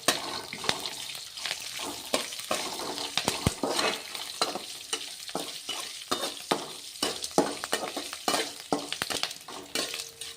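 Urad dal and chana dal fry in hot oil for coconut chitranna, a crackling sizzle broken by frequent clicks and scrapes of stirring, close by and with no talking.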